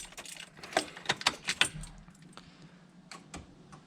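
A bunch of car keys jingles and clinks close by as they are fitted into the ignition of a Duramax truck, a flurry of bright metallic rattles followed by a few softer taps.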